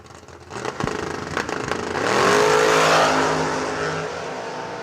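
Drag racing cars, a Camaro among them, roar loudly at a drag strip event, revving hard before a rising, sustained launch that swells and holds, then fades slightly.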